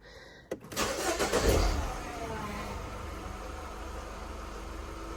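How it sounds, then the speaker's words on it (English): A 2016 Mini Countryman 1.6 petrol automatic engine cranks briefly, catches and revs up, then settles into a steady idle close by. "get the engine going"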